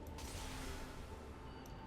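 A door mechanism grinds and creaks open in World of Warcraft, a steady mechanical rumble with faint ratcheting running evenly through the whole stretch.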